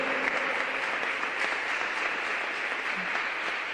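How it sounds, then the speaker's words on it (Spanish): Congregation applause at a church youth service, sustained even clapping from a gathered crowd with no talk over it. "Dele un fuerte aplauso a Dios por eso."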